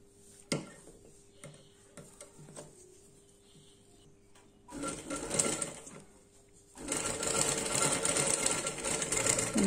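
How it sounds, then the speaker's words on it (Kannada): A sewing machine stitches along the edge of a baby frock, starting with light ticks and clicks, then running in two louder sustained bursts of rapid stitching, close by and without talk. "ಇದ್ರ ಮೇಲೆ ಎಡ್ಜಲ್ಲಿ ಈ ರೀತಿ ಸ್ಟಿಚ್ ಹಾಕ್ತಾನೆ"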